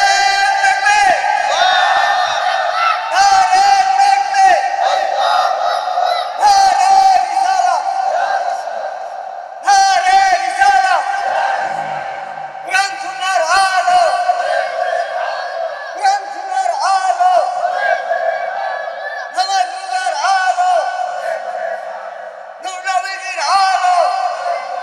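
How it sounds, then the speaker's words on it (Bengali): A large crowd at a religious sermon shouts a slogan in unison, loud repeated chanted bursts with brief pauses between, led call-and-response style over an amplified setting. "একটা স্লোগান দেন দেখি"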